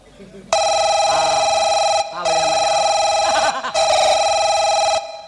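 A mobile phone rings loudly with a bright, sustained electronic tone in long repeated bursts separated by short gaps, while people talk underneath.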